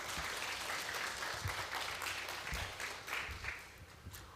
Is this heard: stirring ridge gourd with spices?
no